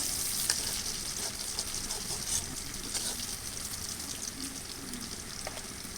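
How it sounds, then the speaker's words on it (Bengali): Onions sizzle and crackle in hot oil in a home kitchen pan, a steady frying hiss with occasional pops and stirring scrapes, close and alone. "পেঁয়াজটা আমি লাল লাল করে ভেজে নেব আগে"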